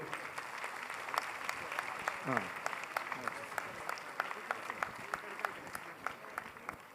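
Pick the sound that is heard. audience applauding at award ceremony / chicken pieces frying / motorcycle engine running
audience applauding at award ceremony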